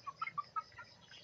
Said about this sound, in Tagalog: Limang buwan na pala itong mga manok kong ito.